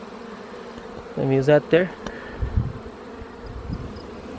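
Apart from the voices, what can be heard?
honey bees buzzing in an open beehive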